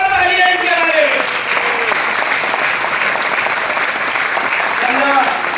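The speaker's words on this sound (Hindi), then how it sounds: "एक बार जोरदार तालियां इनके बारे में" A large audience in a business seminar hall claps loudly and continuously, while a voice talks over the start and end of the applause.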